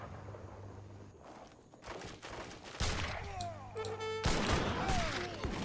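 Gunfire from sniping units in the Age of Empires video game, a steady clatter of shots and impacts over a busy battle soundscape with tonal game effects, rising louder in the second half.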